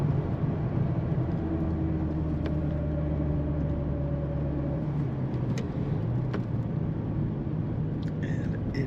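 A 1988 Chevrolet Corvette convertible with a 4-speed manual gives a steady low engine and road rumble from the cabin while cruising, continuous and fairly loud with no talk.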